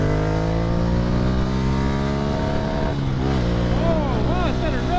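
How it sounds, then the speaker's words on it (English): A 2015 Ducati Scrambler motorcycle engine revs hard and close up, its pitch climbing steadily to the rev limiter, where it stutters and bounces against the cutoff. A voice speaks briefly over it. "Oh wow, it's got a rev limiter."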